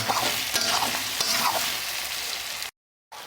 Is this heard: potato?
yes